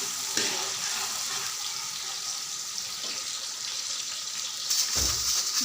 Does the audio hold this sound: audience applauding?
no